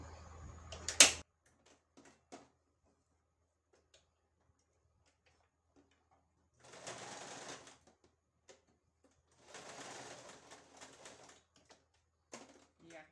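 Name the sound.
sewing machine stitching and backstitching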